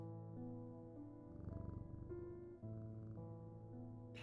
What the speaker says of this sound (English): Yes, you can pet the cat.